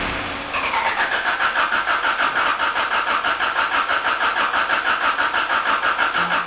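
A car engine cranks repeatedly without catching, the starter's rhythmic whirring pulses running steadily and loudly for about six seconds after a brief pause, close to the microphone.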